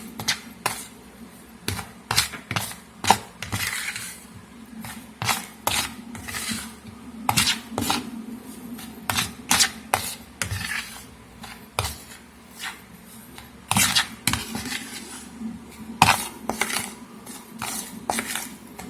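Batter for a no-oven Milo cake is stirred after sugar goes in, a utensil clinking and scraping against the bowl in quick, irregular taps that run steadily throughout, close and fairly loud.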